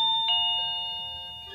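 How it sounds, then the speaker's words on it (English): An iEGrow wireless doorbell chime rings once, a clear electronic tone that sustains and slowly fades, heard alone and close. "And there goes my doorbell."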